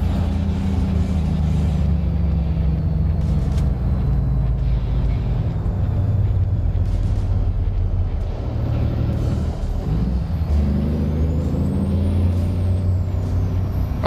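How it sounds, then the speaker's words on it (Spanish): A heavy truck's engine brake in the ATS/ETS2 driving game rumbles as a low, sustained drone, with hissing air-brake bursts and a steady truck engine throughout and no talking. "Ahí está, freno motor."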